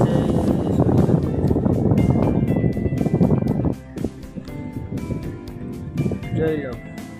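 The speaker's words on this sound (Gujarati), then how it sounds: "આ બધી બોટું નીકળી." Fishing boats head out of the harbour at sunrise, giving a loud, steady engine rumble mixed with wind buffeting that eases partway through, while someone talks over it.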